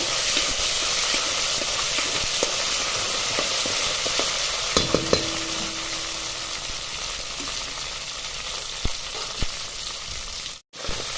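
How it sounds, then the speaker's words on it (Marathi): Green chillies sautéing in a pan, a steady continuous sizzle with occasional stirring scrapes and clicks, close and fairly loud throughout with no talk. "मी चांगलं परतून घ्यायचं मिरचीचा जो कटकटपणा आहे तो निघाला पाहिजे इथपर्यंत परतवायचे"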